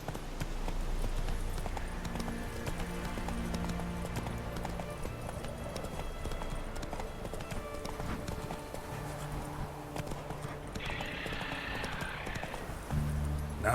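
A horse galloping in The Witcher 3 video game: continuous rhythmic hoof clip-clop over game music, with a brief whinny and faint speech in the background.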